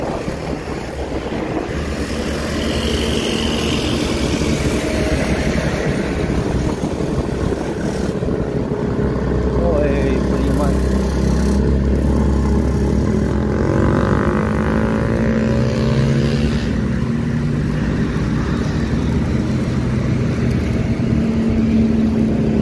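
A Primajasa bus accelerating on the road, heard as a loud, steady engine drone with deep rumble and road roar filling the whole stretch, rising slightly in the middle.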